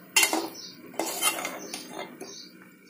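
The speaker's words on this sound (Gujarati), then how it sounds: "કારેલાને આપણે એકદમ હળવા હાથે હલાવશું" A utensil stirs stuffed bitter gourd in a pan over a low flame, giving two or three close metallic scrapes and clinks against the pan, with no talking.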